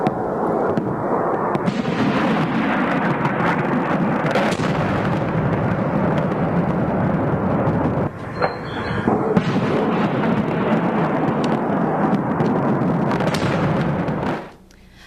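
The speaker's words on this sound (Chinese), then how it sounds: "科威特機場突然間發生了這一場爆炸意外，造成1死63傷" News footage from an explosion at Kuwait airport: a loud, continuous roar of crackling, booming noise lasting about fourteen seconds before cutting off abruptly, with no voices.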